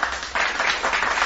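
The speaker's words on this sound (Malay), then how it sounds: "kemudian kita ada sound effect applause" Applause sound effect played back through a Maonocaster AU-AM200 soundcard, a dense crowd-clapping wash that swells after a brief dip and carries on steadily, fairly loud and with no voices over it.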